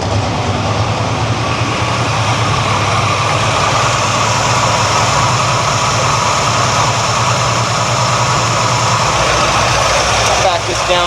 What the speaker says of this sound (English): Still idling a little high, but it seems to be smooth